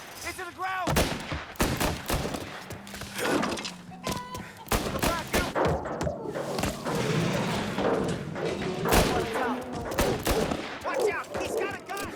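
Loud gunshots and heavy thuds burst in quick, irregular volleys during a street fight in the video game Mafia: Definitive Edition, with shouting voices mixed in.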